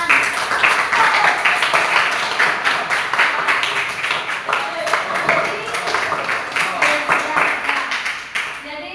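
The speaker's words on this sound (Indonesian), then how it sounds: "Oke, bagus. Tepuk tangan" A classroom group of students claps together during a teaching session, a close, fairly loud patter of hands with a few distinct individual claps and murmured voices underneath, easing off near the end.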